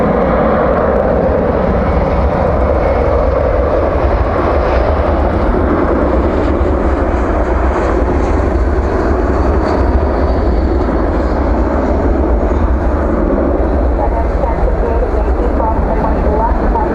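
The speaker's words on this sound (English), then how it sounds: "There's an A321 off to Vancouver, flight 1434." An Airbus A321 jet airliner departing at night from Dallas–Fort Worth airport, a loud, steady engine roar that fills the whole stretch without fading, heard from nearby.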